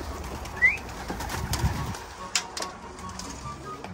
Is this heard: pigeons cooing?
yes